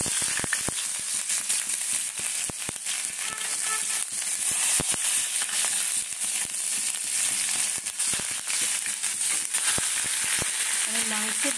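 Ginger frying in hot oil in a wok, a steady dense sizzle with scattered crackling pops running throughout, close and fairly loud.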